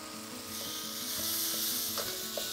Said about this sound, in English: And fry that together, and then straight in some sliced green beans.